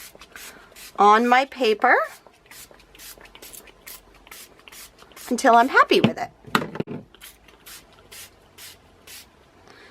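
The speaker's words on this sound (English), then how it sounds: "I'm going to use bronze. And I'm just going to spray randomly" Bronze colour spray is sprayed onto paper in a series of short, sharp hissing bursts at an irregular rhythm, close by, while a voice talks over and between them.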